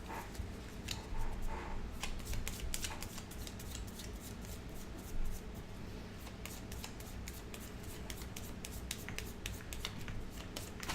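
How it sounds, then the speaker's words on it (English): Game cards from Kingdom Death: People of the Stars shuffled by hand at a table, a quiet run of rapid papery riffles and flicks with soft handling noise throughout. "And this gets shuffled."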